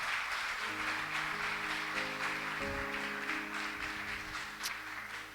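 A church congregation applauds softly in a sanctuary, the faint patter of clapping sitting beneath sustained musical tones in a quiet, distant-sounding room.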